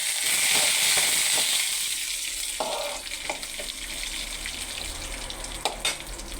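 Curry leaves, ginger and chana dal frying in hot oil, crackling and sizzling loudly in a continuous hiss, with a few sharp spattering pops near the end.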